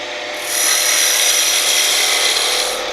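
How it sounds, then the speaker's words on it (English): A skew chisel's tip takes small cuts into wood spinning on a lathe, making a steady, loud hissing scrape that holds evenly for a few seconds, with no talk. "Just like making the V-cut, small cuts, simply raising the handle, using just the tip of the skew."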